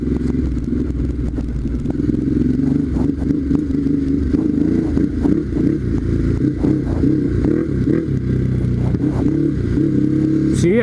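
A Ducati Hypermotard 939 motorcycle rides over a dirt track, its engine droning steadily and loudly throughout, with gravel clatter and scraping from the tires mixed in and no talking.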